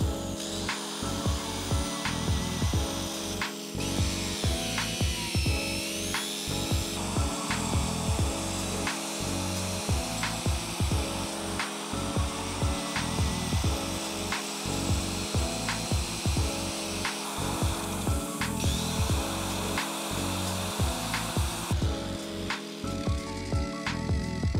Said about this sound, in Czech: budeme materiál pomocí dláta a paličky odebírat postupně vysekávat